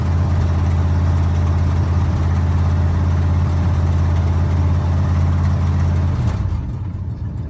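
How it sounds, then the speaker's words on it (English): A 1975 Ford F-150 with a 460 engine and a loud exhaust leak idles steadily after a cold start, with a deep, constant rumble that drops away near the end. "So if I let it idle, it's fine."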